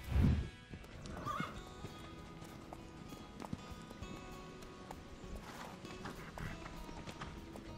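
A horse whinnies and snorts close by while hooves clop and shuffle on the ground, with quieter movement sounds throughout.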